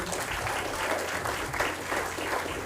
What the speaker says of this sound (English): Oh no, that round of applause was too tame, too tame.